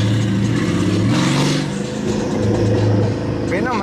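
A car engine revs loudly with rising and falling pitch, close by, over a few seconds of steady mechanical roar.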